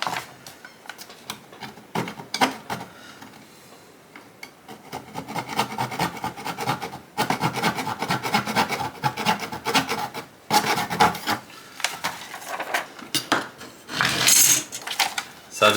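High impact polystyrene (HIPS) sheet being drilled and cut, giving a close, steady rasping and scraping that runs in bursts with brief pauses and no talk.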